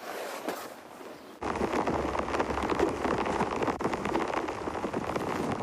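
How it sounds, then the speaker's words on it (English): Heavy rain pours steadily onto a safari vehicle in the African bush, a dense, loud hiss that jumps sharply in intensity early on and stays constant, with no talking. "So the rain has stepped up quite a bit and there's a lot more coming."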